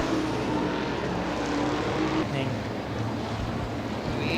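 IMCA modified race cars roar around the oval at Crystal Motor Speedway in Crystal, Michigan, a loud continuous engine drone that shifts partway through as the pack passes out of the final turn, with crowd and track noise mixed in.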